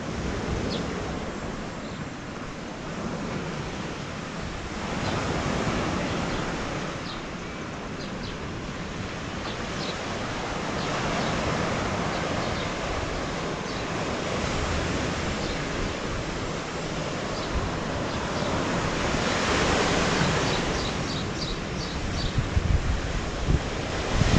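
Ocean waves roll in at Sant Elm, Mallorca, a broad continuous surf wash with swelling surges, heavy wind buffeting on the microphone throughout.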